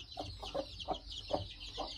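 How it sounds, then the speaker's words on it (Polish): A broody Podkarpacka hen with chicks clucks in a slow series of low, soft clucks over a steady background hum, fairly faint and with no talking. "Kwoka rasy podkarpackiej."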